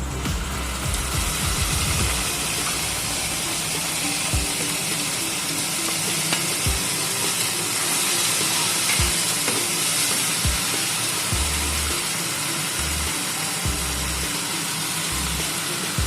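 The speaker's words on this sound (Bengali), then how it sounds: "মশলাটা ভালো করে কষিয়ে নিতে হবে" Spice masala for a Bengali stingray curry fries in a pan, giving a steady broadband sizzle throughout, with scattered low knocks and scrapes from stirring.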